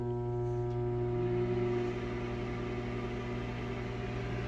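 A Sharp SMC1132CS microwave oven runs with a steady, even hum and droning tones, constant and moderately quiet throughout, with no voices.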